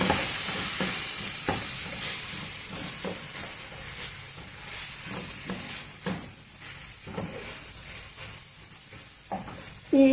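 Spinach and fenugreek leaves cook with tomato in a pan, giving a steady low sizzle with frequent scraping stirs of a spatula, close by and without any talking.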